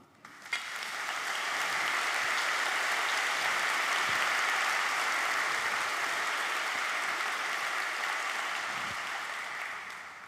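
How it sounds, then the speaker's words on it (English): A civic event audience applauding as a speaker is welcomed, a broad, steady wash of clapping that swells quickly, holds for several seconds and fades slightly at the end, with no speech. "thank you for the warm applause from the crowd"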